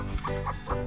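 Serama bantam chickens cluck close by in a short burst of two or three soft, repeated clucks over a low background hum.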